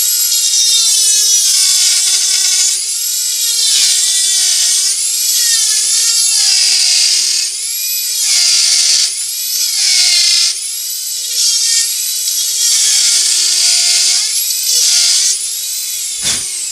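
A Dremel 4000 rotary tool carves a wood spirit with a burr, giving a loud, continuous high-pitched whine that dips and recovers in pitch as it bites into the wood, with no talking over it.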